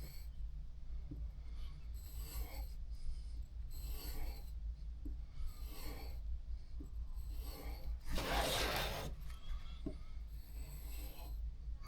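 The blade of a Jorgensen No. 60-1/2 block plane is stroked back and forth across a used leather strop, giving faint, soft, rhythmic rubbing swishes at regular intervals, with one louder pass near the end.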